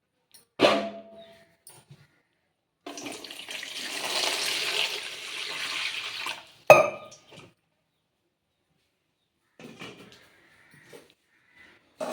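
Running water splashes over vegetables being washed for curry in a village home, a steady gush lasting a few seconds, followed by a sharp knock and scattered light clinks of pots and dishes in a quiet room.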